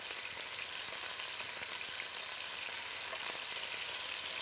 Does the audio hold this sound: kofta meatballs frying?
yes